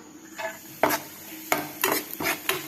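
Vermicelli being lightly roasted in a pan for payasam, with repeated scraping strokes of a spoon against the metal and a faint sizzle between them, close and without talk.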